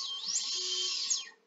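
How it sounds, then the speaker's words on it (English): A high-pitched, whining hum comes from a drone brushless motor running rough with a bad bearing. The pitch rises, holds steadily, then winds down, heard up close with no talking. "It's a little rough, but this one is"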